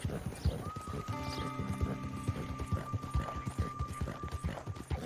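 Horse hooves clip-clopping in Red Dead Redemption 2, a steady rhythmic trot close by, mixed with a sustained tonal hum and background game ambience.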